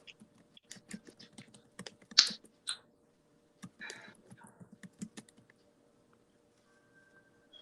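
Keys clatter on a computer keyboard in short, uneven bursts of close clicks, with a louder strike near the start and a quiet tail at the end.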